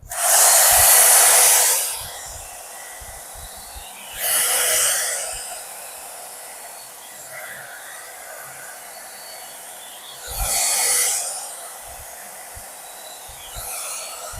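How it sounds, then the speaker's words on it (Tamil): An AGARO hair dryer blows curly hair straight in loud, close bursts of roaring airflow lasting a couple of seconds each, switching on four times with quieter pauses in between. "அண்ட் இதையும் நான் ப்ளோ ட்ரை பண்ணுறேன்."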